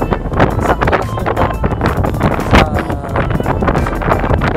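Strong wind gusting outdoors in Basilan, roaring and buffeting the microphone continuously and loud throughout, with no voices.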